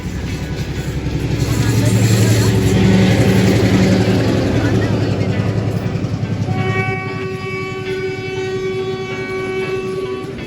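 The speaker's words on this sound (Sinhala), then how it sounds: "අපි එද්දිම ඉතින් ට්‍රේන් එකකුත් ගියා එතන." A train passes close by near a beach: a loud, building rumble with clattering wheels that fades, then sustained horn tones sound for the last few seconds.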